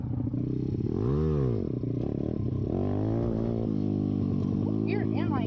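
A new pit bike ridden on dirt trails, its small engine revving up and down in close, rising and falling sweeps with some clatter, while a rider's voice talks over it.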